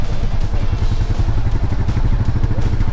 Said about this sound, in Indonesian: ini adalah sebuah Royal Enfield yang mesinnya satu silinder 350 cc